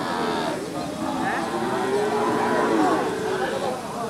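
A twelve-month-old Australian-breed cow at a cattle market in Hazratpur gives a long, loud, drawn-out moo against crowd murmur.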